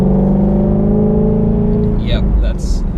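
Shelby GT350 sports car engine idling and running steadily with a low droning rumble, up close, while someone talks over it.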